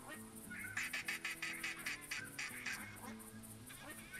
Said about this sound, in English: Those are definitely pintail, yep. I can tell from the noise they're making.